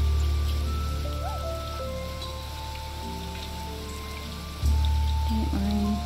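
Steady rain hisses and patters across the landscape of the video game Niche, a continuous wash of drops layered under soft, sustained game tones, with a brief dip partway through before the rainfall swells again.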